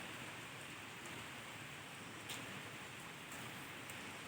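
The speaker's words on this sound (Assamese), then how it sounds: "দিছে পূৰা বৰষুণ দিছে" Steady, hissing rain falls evenly with no pauses, a soft continuous wash of sound and a few faint drips standing out.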